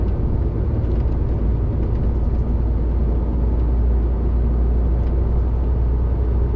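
A heavy lorry pulling a trailer loaded with about 14 tons drones loudly and steadily, the engine straining under the weight with a constant deep rumble and road noise from inside the cab.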